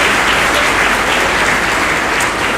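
A large conference audience applauding a guest of honour, dense and loud continuous clapping close up, holding steady throughout without speech.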